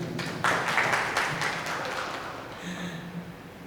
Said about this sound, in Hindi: तो एक बार तो उनके लिए तालियां बजाएं